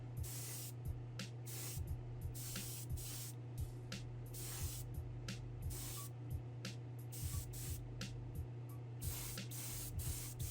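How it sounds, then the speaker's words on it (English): An airbrush sprays liquid chrome paint onto a Hot Wheels GTX die-cast car, heard as a steady series of short, close hissing bursts, each separated by a brief pause. "you want to be kind of wide open on your airbrush and do it in one pass if you can"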